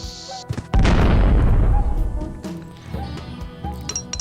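A bomb goes off in the game Lode Runner Online: The Mad Monks' Revenge, a loud, close crash-like boom that rumbles and decays over a couple of seconds, framed by short game clicks and blips before and after, with no talk.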